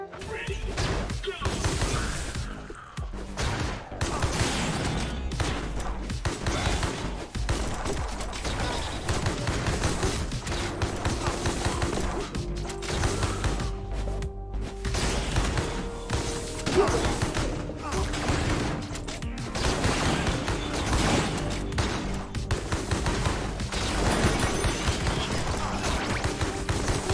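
Rapid, loud bursts of gunfire and crashing impacts from a video game shootout, repeating throughout with dense overlapping shots and occasional thuds.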